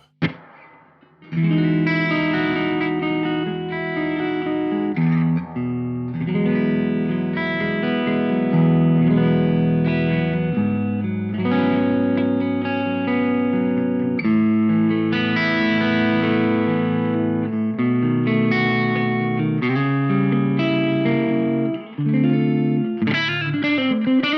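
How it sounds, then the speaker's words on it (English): A guitar plays chords and melodic lines drenched in a splashy, springy stereo spring reverb from the IK Multimedia T-RackS Space Delay plugin, lingering and wobbling, continuing steadily with no voices. "Stereo spring reverb."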